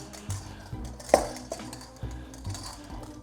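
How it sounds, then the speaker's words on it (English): Meatloaf mixture being kneaded and squished by hand in a bowl, giving repeated wet slaps and soft clinks against the bowl at an uneven rhythm, close by and moderately loud. "You don't want to overmix it, but it feels so good."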